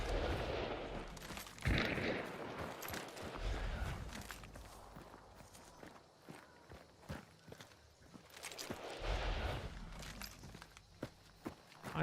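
Gunfire in the video game HUNT: Web of the Empress: scattered sharp shots and bursts, some distant, mixed with footsteps and movement noise, alone without talk.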